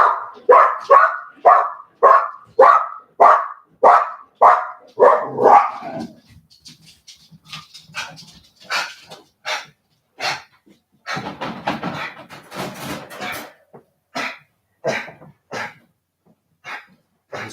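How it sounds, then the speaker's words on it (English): A pet dog standing at a window barks loudly and rhythmically, first in a steady run of about a dozen even barks, then in more ragged, excited bursts mixed with huffing breaths. "As soon as a dog goes walking down the street, she's got to stand at the window and bark like a banshee."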